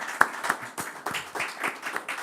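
A small group applauds at the presentation of a mountain trail running event, with a handful of distinct, fairly close claps at a loose, uneven rhythm.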